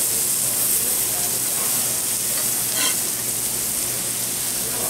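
Ground fish browning in oil in a pan, giving a dense, even sizzle and hiss that holds steady throughout, close and fairly loud with no talking.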